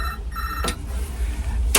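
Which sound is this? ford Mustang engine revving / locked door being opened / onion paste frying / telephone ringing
telephone ringing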